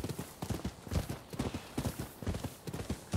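Horse hooves gallop in the video game Rise of the Ronin, a quick, rhythmic clip-clop of repeated thuds that is close and fairly quiet, with no other sound over it.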